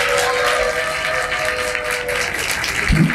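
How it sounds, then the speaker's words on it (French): Audience at a university debate applauding, with scattered clapping and crowd noise at moderate level and a steady tone running underneath, ending in a short clatter. "veuillez l'applaudir s'il vous plaît."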